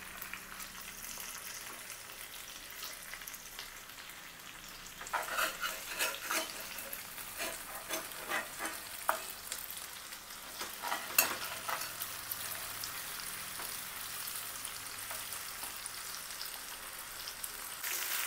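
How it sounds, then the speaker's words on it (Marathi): Mutton chops shallow-fry in a pan with a soft continuous sizzle that turns louder and more crackly as the pieces are stirred and flipped, with scraping and spattering bursts, close and with no voices. "असे हे एकदा दोनदा उलट पलट करत सगळे शालो फ्राय करून घ्यायचे."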